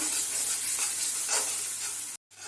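Masala gravy with added cream for lauki kofta being stirred in a pan: soft scraping and gentle sizzling, close and steady, with a brief dropout near the end.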